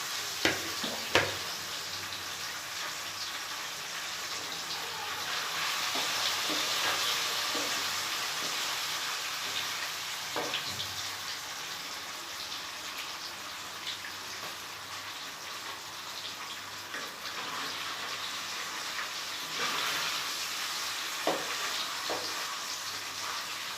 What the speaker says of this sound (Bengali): এবার আস্তে আস্তে অল্প অল্প করে আমি পনিরটা ভেজে রাখছি।